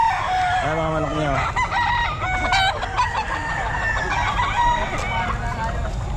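Roosters at the Grotto pet market crowing near and loud, one long rising crow early on followed by clucking and more fowl calls over a busy, noisy market background with some talk.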